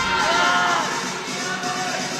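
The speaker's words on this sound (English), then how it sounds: "I can barely hear from all the cheers" Spectators roar and cheer continuously at an ice climbing competition final in Sunderland, UK, a dense loud wash of crowd noise with whoops rising through it.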